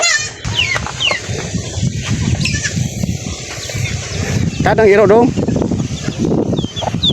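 Chickens cluck and squawk around a farmyard, with a loud rising call in the middle and a person talking briefly over them.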